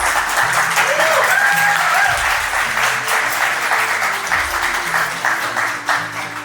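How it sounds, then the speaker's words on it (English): Sustained applause fills a community event hall as an audience welcomes a woman coming up to speak, with dense, steady clapping throughout and crowd voices and a brief whistle or cheer mixed in. "give her a round of applause as she comes to say a few words"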